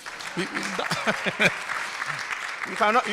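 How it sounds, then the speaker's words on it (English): Light audience applause at a national ICT week conference session rises faintly behind a speaker who keeps talking, a soft patter of clapping that stays low under the voice throughout. "Clap for us at least"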